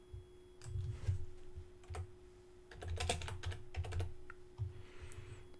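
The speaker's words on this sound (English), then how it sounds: "I'll type my new text" Someone types on a computer keyboard, with quick clustered key clicks in uneven bursts and short pauses, close and fairly quiet over a faint steady hum.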